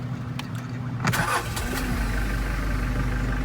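A Nissan Hakosuka Skyline engine cranks briefly and catches, settling into a steady low idle close by.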